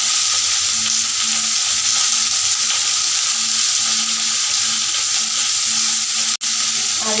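Potato and pumpkin stir-fry in sunflower oil with cumin and bay leaf, a loud, unbroken close sizzle with faint stirring and one brief sharp knock near the end.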